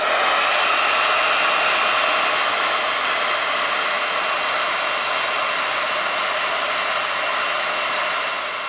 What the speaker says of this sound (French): avec mon sèche-cheveux, je sèche